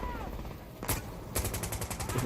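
Gunfire in the tactical shooter Insurgency Sandstorm: a sharp shot, then a rapid burst of automatic fire with closely spaced cracks, sounding fairly near.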